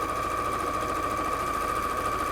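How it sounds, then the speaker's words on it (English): A sewing machine runs steadily through brightly coloured fabric, giving a continuous even whirring hum with no pauses and no talk. "I'll just sew along that one actually."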